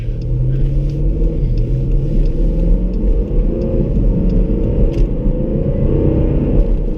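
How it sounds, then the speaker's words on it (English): A car engine drones steadily and loudly close by, its low rumble rising and shifting in pitch as it gathers speed, with no talking. "I know this car sounds kind of crazy"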